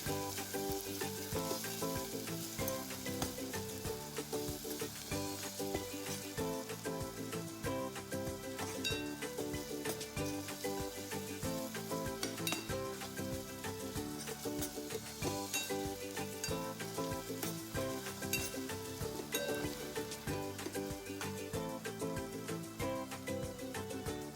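Chicken curry ingredients fry steadily in a home kitchen pan, giving a continuous loud sizzle with faint stirring and scraping throughout and no voices.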